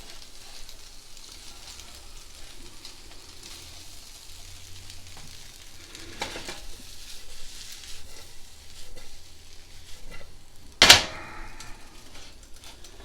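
Soft, steady sizzling of Singapore noodles stir-frying in a frying pan, with occasional stirring scrapes and one sharp clatter near the end.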